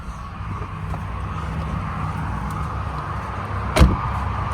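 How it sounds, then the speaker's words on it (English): A single solid, heavy thud of a 2023 Jeep Gladiator Rubicon's door shutting close by, heard over a low steady engine idle. "Love that solid thud,"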